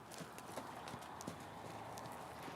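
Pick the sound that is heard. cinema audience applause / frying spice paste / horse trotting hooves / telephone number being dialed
horse trotting hooves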